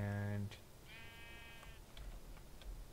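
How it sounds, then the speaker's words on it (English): Sheep bleating in the Minecraft video game: one bleat opens the clip, then a higher, wavering bleat follows about a second later, both clear over a low game background. "Oh good, got some sheep down here."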